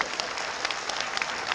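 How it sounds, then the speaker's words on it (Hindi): A crowd at a political rally, a Sahariya tribal conference in Gwalior, breaks into dense, continuous clapping. The applause is close and sustained throughout with no talk over it. "आप मेरे से सहमत हो तो जोरदार तालियों से बताओ"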